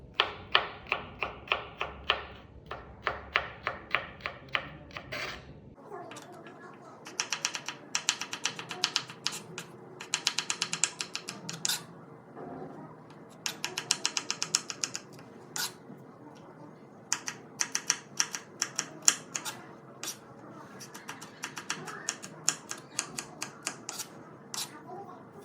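Rapid knife chops strike a cutting board in bursts of quick, sharp taps with short pauses as pork is cut into cubes, close and crisp, with faint talk at times.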